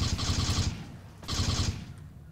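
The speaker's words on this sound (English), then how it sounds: "God, I just feel so BA with this pulse rifle" A modded pulse rifle in Left 4 Dead 2 fires in two rapid automatic bursts, each a fast rattling stream of shots with a short pause between them.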